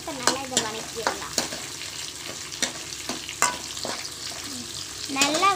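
Whole onions and curry leaves sautéing in a pan for tomato kuzhambu, a close, steady sizzle broken by repeated sharp spoon-scraping and stirring knocks at an uneven rhythm.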